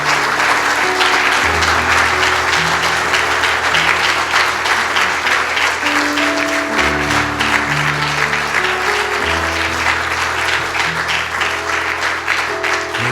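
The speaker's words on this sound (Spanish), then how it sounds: "Dele un aplauso al Señor." A church congregation breaks into loud, sustained applause for the Lord, dense clapping from many hands running the whole stretch while sustained keyboard chords play underneath.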